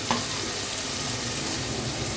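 Meat frying in a pan with spices and tomato sauce for tehari, a steady soft sizzle and crackle with a brief stirring clink at the start, no talk.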